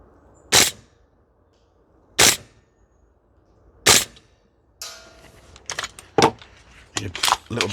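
A CYMA Noveske N4 gas blowback airsoft rifle firing 0.4 gram BBs at an outdoor range cracks three single, evenly spaced shots, then a quicker, irregular string of sharp reports.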